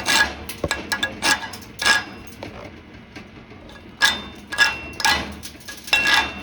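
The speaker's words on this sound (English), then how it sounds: "I'm just scraping it off" Slag scraped off a 7018 stick weld on a steel test plate, heard as a run of sharp metallic scrapes and clinks in uneven bursts, fairly close, with short quiet gaps between strokes.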